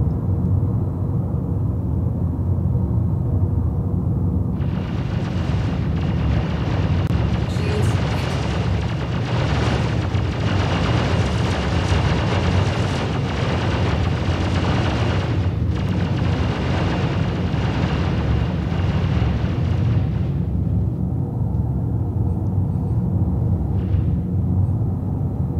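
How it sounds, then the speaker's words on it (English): Turrets blowing up in the space game Star Citizen, heard as a long continuous rumbling roar of explosions that swells loud for about fifteen seconds over a steady low engine drone, then dies back to the hum. "And let's hope I don't get a crime stat for blowing up turrets."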